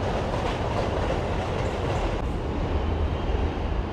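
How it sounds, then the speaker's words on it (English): A subway train rumbles past steadily, a dense roar of wheels and rails that stays loud and unbroken throughout. "As we hear just ahead of me, 450 feet, the subway train."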